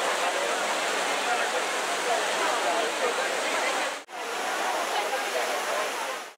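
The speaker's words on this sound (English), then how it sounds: "The fountain is a true wonder, a jewel of water and stone that is nestled between the places of the historic" A Baroque fountain in Rome splashes in a loud, steady, dense rush of falling water that fills the whole clip, with a brief break partway through.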